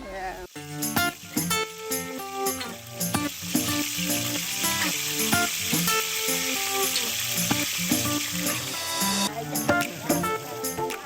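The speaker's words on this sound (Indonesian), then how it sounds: "Pak Etik terpaksa ikut turun tangan menggoreng tempe mendoan" Tempeh mendoan frying in hot oil at a busy gorengan stall, a steady loud sizzle and bubbling running throughout, with clattering utensils and music or voices mixed in the background.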